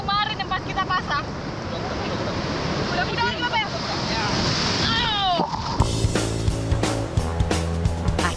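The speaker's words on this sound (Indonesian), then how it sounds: "jadi ternyata memang hari ini masih berombak" Ocean surf and waves on the Aceh coast wash loudly against wind noise, with voices talking over it and a motor humming in the latter part.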